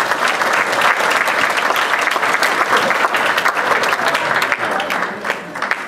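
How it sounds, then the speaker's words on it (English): Steady, dense applause fills a youth soccer club awards banquet, a large crowd clapping loudly and continuously with a few voices beneath. "So give a big round of applause to everybody, all the kids."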